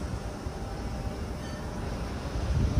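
Train T53 departs from platform 2 at Loftus station: a low, steady rumble of the moving train with a mild wind noise, rising slightly louder toward the end as it pulls away.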